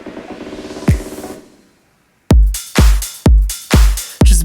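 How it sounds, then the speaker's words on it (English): Big club-style dance drum loop, heavy booming kicks with bright attacks hitting in a steady beat after a fading tonal tail and a short silence, loud and close with no voices. "And then the drum loop"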